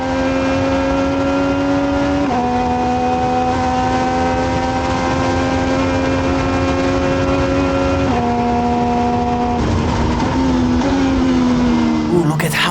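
A Legend car engine in a racing video game drones steadily down a straight, its tone stepping with gear changes and swelling as a rival closes in, loud and continuous, with a voice talking over it.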